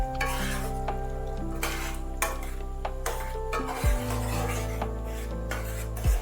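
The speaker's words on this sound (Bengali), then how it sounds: "আদা আর হিঙের সেই ফোড়ন। ভালোভাবে নেড়ে" A ginger and asafoetida tempering stirred in a pan, a soft scraping and rubbing over a low sizzle with a steady hum in the background, close with no talk.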